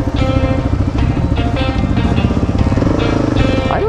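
KLR 650 dual-sport motorcycle ridden along a wet, slippery off-road trail, its single-cylinder engine running steadily and loud and close throughout, with a few brief vocal sounds over the top.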